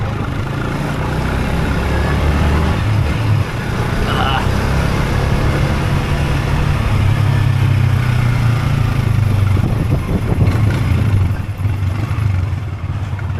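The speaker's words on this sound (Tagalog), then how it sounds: "Ganda talaga ng tunog ng motor na to." A motorcycle engine runs steadily throughout with a low, throaty rumble, close by, while a voice talks over it.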